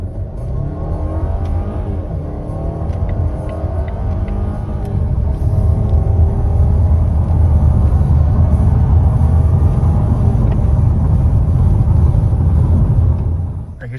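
A Volvo with its stock intake accelerates hard, the engine rumbling loud and close as it builds steadily through about fourteen seconds of sustained revving.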